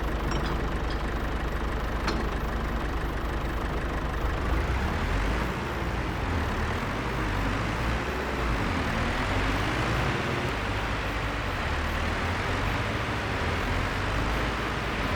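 Tractor engine in the Farming Simulator 25 video game, a steady low droning rumble running continuously at moderate loudness, with no talk.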